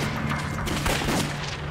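Battle gunfire in a war film set during the resistance against Japan, with dull booms and scattered shots of a fusillade heard at a distance, fairly faint and irregular.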